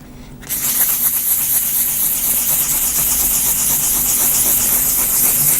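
Sandpaper rubbing a guitar headstock from a DIY kit build, a steady close, loud hissing scrape that starts abruptly and continues without pause.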